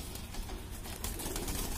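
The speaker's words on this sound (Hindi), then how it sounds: "कबूतर इतने ज्यादा हैं लेकिन नस्लें कुल मिला के कुछ गिनी चुनी वही हैं" Pigeons on a rooftop loft in Delhi give soft, low cooing calls beneath a steady hiss of background noise, faint and brief.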